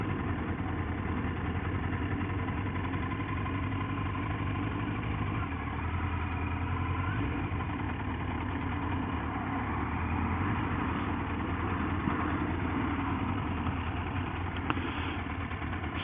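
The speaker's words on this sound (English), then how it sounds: "You just start your bike up" A motorcycle engine idles steadily after being started, a continuous low rumble that stays loud and even throughout with no speech over it.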